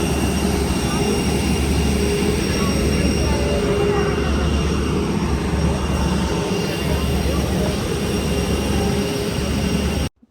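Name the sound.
airport metro train ride at Delhi airport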